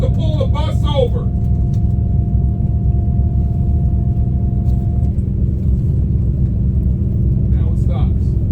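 Bus engine rumbles steadily and loudly from inside while riding, a continuous low drone with a faint whine, and brief talk at the start and near the end.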